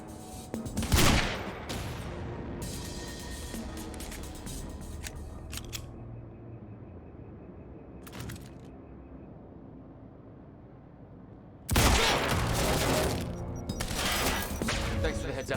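Sniper gunfire in the Quantum Break video game comes as a few sharp, loud cracks separated by quieter stretches, with a burst of heavier firing near the end.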